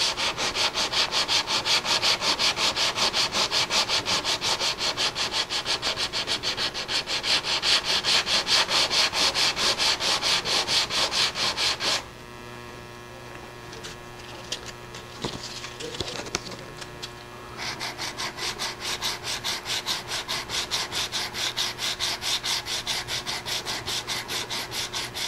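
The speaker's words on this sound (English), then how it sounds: "We'll sand this level." Hand sanding of a wood surface being levelled over masking tape: steady, close, rhythmic scraping strokes for about twelve seconds, a short quieter pause with faint bird calls, then the back-and-forth rubbing resumes loud and continuous.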